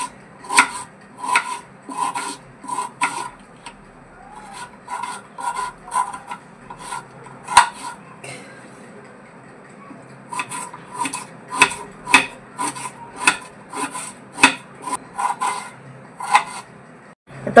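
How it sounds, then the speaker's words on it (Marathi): An onion is sliced into long strips on a board with a knife, a close, rhythmic run of crisp cutting strokes in two bursts separated by a brief pause. "आता असे आपल्याला लांब लांब लांब लांब स्लाइस मध्ये कट करायचे, जसे आपण कांदा भजीला कापतो तसे।"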